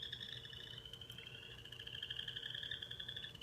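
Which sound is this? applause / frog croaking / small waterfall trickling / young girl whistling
frog croaking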